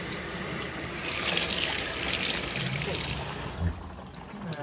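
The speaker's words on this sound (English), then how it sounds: "I'm going to up the water level a bit, just so that we see it" An LG Turbodrum WTR807 washing machine fills with water, a steady, close hiss of rushing water that swells slightly partway through and continues without pause.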